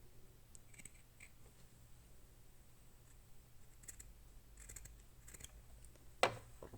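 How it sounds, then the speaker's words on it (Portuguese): Scissors snip an opening in fabric beside an overlock machine, with several quiet, separate cuts spaced out across the clip and a sharper snip near the end in a quiet room. "Eu vou cortar essa abertura aqui."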